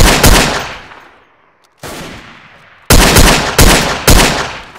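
Loud, close gunfire from the video game Verdun: a heavy shot with a long decaying tail, another after a pause, then three rapid shots in a row, with no talk.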